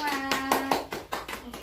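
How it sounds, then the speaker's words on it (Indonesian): Several bursts of hand clapping from a small group of children in a primary school lesson, uneven and quick, over a faint steady hum with a little background chatter. "Tepuk tangan untuk Arini dan kita semua."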